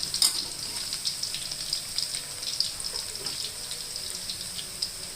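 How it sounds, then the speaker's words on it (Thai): Garlic sizzles and crackles in hot oil in a pan for a Thai stir-fry of bamboo shoots with curry paste and pork belly, with a steady close hiss and occasional light clinks, no talking. "เราก็เจียวกระเทียมก่อนนะคะ"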